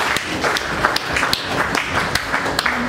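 A church congregation at a prayer service for blessings breaks into lively applause, a dense rhythmic patter of clapping hands with occasional sharper accents, close and steady for a few seconds.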